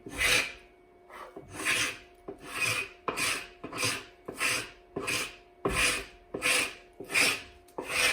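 A travisher shaves a wooden chair seat, rasping in a regular back-and-forth rhythm of about ten long scraping strokes, close and fairly quiet, with no talk over it.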